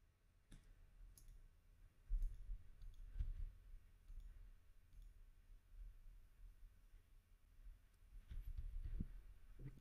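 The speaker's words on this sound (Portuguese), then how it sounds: "podemos também dar 2 cliques" A computer mouse clicked while modelling a Ferrari F40 in SolidWorks gives soft, sparse clicks and light taps spread over a quiet room background.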